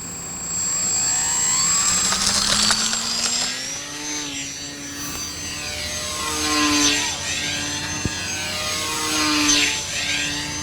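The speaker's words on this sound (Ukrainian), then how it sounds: "Вперше на змаганнях був представлений електричний літак." An electric model airplane flies at a youth model aircraft competition, its steady motor whine rising and falling in pitch as it passes overhead, sweeping near and away with no voices.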